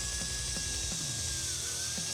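A Fanttik Nano power drill bores through thick Schedule 80 PVC pipe, giving a close, steady mechanical whir with rhythmic grinding pulses as the bit cuts through the hard plastic.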